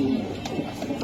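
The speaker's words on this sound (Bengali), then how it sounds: "এটা হলো বাংলাদেশের ফার্স্ট ক্লাস ড্রাগন কবুতর" Dragon pigeons, a Bangladeshi fancy breed, give a short low cooing burst amid steady background murmur, close by and fairly soft, lasting about a second.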